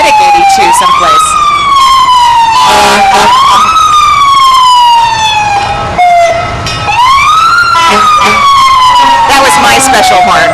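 A fire engine wails its siren through the 2014 Norwood Day Parade, the rising and falling sweeps loud and close and repeating three times over about ten seconds, with a horn blast blended into the din.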